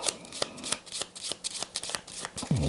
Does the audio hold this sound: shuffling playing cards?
yes